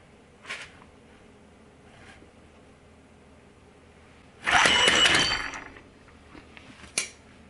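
A Charpy pendulum impact tester strikes an ASP67rc steel test specimen, which does not break, giving one loud, brief rattling crash. Softer clicks come before and after it in a quiet room.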